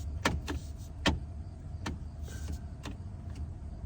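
An old Ford F truck with its windshield wipers and turn signal running, giving sharp ticks spaced roughly half a second to a second apart inside the cab over a low idle rumble.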